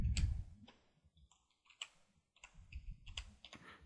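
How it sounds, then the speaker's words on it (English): Someone types on a computer keyboard one-handed while holding a microphone, entering text in Cinema 4D: irregular clusters of close, crisp key clicks with short pauses between bursts and no talking. "Sorry if I'm typing slow because I'm holding the mic and typing"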